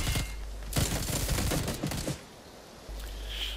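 Rapid gunfire bursts in a battle royale video game, a dense volley of shots for about two seconds followed by quieter game ambience.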